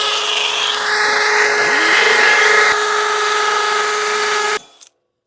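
A hammer drill boring new anchor holes to move a gazebo, running as a loud continuous whine with steady hammering buzz for over four seconds before cutting off abruptly.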